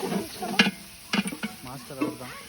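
Mint and coriander mixed into biryani masala for a large batch of mutton biryani on a mango farm, with close scraping and stirring strokes over a light sizzle and a voice speaking over part of it.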